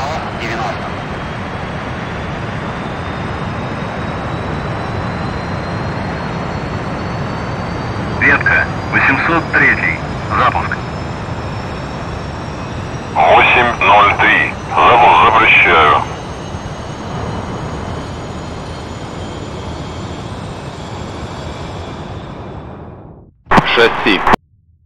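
Su-25 attack jets in the DCS World flight simulator rumble steadily on the runway, with a broad engine roar running throughout, while radio chatter and bursts of voice cut in over the top before the roar drops away at the end.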